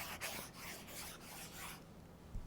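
A stylus writes on a Quaderno e-paper tablet, giving a soft, steady scratchy rubbing with small strokes for about two seconds before it stops. It is faint and close, with no voices.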